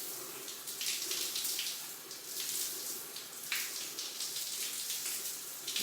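Warm water running steadily from a tap to rinse out a sea moss hair conditioner, a close, continuous hissing splash with gentle surges and no speech.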